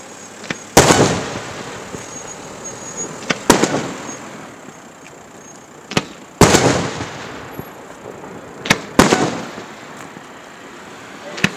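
Festival fireworks finale at the Sant'Oronzo feast in Turi, with loud broadband booming bursts at irregular intervals, some in quick doubles, over a constant crackling background, mostly without voices.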